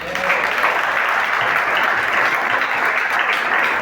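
Loud, sustained applause from a church congregation during a Mother's Day service, a dense, even wash of many hands clapping with no pauses.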